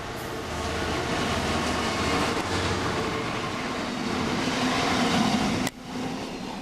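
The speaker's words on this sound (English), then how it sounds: "there's just another freight train coming as well" A busy freight line carries a passing freight train, its loud, steady rumble and wheel noise continuing throughout before an abrupt drop near the end.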